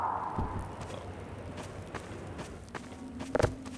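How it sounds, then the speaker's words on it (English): Footsteps squelch across slippery mud in Half-Life 2, a few soft irregular steps over a low ambient bed, with a brighter clatter near the end. "We play custom footstep sounds when the player walks on the slippery mud"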